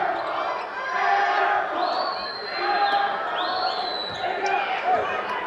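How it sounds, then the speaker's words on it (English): Crowd roaring and cheering in a high school gym during a basketball game, a sustained loud wash of voices that swells and holds, with whistle-like shrieks rising above it and a commentator's voice over the noise. "Here comes that crowd again."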